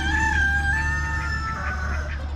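Chickens at a backyard chicken hut in Mississippi sound off loudly and close, with overlapping crowing and clucking calls over a steady low background hum.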